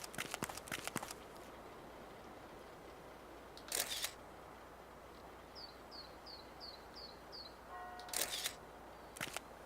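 Camera shutter fired several times, giving sharp mechanical clicks in short bursts at irregular intervals, with faint bird chirps in between and a quiet background.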